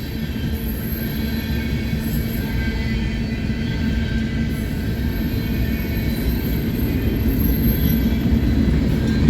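A freight train rolls past near Fremont, Nebraska, a loud, continuous rumble of rail cars and wheels with faint high squeals above it, steady throughout.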